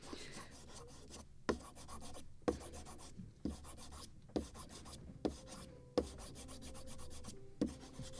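Fine hand sanding of a wooden model gunboat's midship deck, using a scalpel handle as a stiff rounded sanding block: quiet rhythmic rasping strokes, close, each pass ending in a small tap, about eight strokes.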